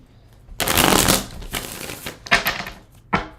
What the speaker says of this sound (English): Let's get a shuffle in for this one.